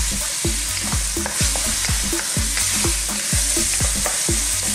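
Minced beef browns in a hot pan for Filipino-style spaghetti sauce, a loud steady sizzle with rhythmic scrapes of stirring, close and alone.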